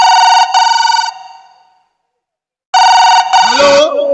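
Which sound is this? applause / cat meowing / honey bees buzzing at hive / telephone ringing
telephone ringing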